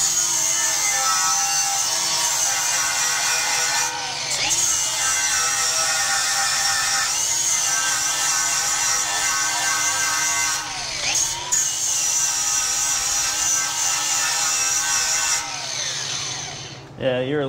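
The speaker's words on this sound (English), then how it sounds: "We're grinding this little number off here." An angle grinder bites into the metal of a boat trailer, a loud sustained high whine with pitch dips as pressure changes and brief pauses, close by, with voices now and then beneath it.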